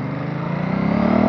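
A V-twin motorcycle engine runs through its stock muffler in a steady, close drone that builds slightly in loudness over a brief moment, with no speech.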